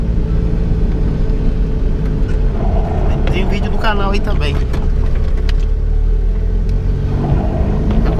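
A Fiat Uno drives through city streets in the rain, its engine and road noise a steady low rumble inside the car while someone talks over it.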